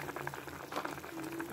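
Prawns dropped into a simmering green banana curry in a pan give a steady bubbling, sputtering cook noise, moderately loud and close, with a voice talking over it.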